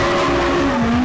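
Ken Block's Ford Escort Gymkhana race car, purpose-built for gymkhana, roars at steady high revs, a loud close engine drone with a faint tyre scrub beneath.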